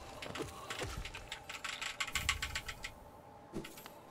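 Quick, uneven clatter of keys on a mechanical computer keyboard during a Hollow Knight run, close and fairly quiet, with bursts of several strokes and a short pause near the end.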